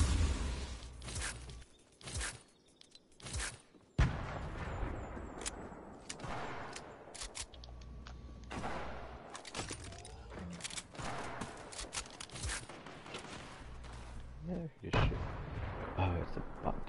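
Rapid bursts of AK rifle gunfire in the Fortnite battle royale video game, loud and repeated with brief pauses, mixed with other shots and faint voices.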